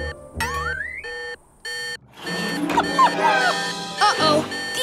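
A cartoon delivery truck's alarm sounds as its ice cream starts to melt: a rising electronic tone and repeated beeps, then busy cartoon voices and honking-like tones crowd in loudly.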